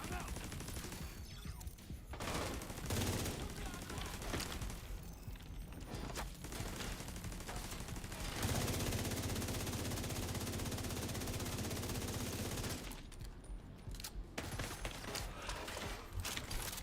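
Gunfire from The Division 2 on PC: sustained, heavy automatic bursts with scattered single shots and a loud continuous volley in the middle, fairly close and harsh.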